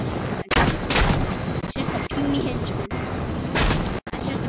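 Bursts of gunshots and gunfire from the video game Fortnite, loud and close, with sharp cracks and a few brief gaps between volleys, heard during a squads match.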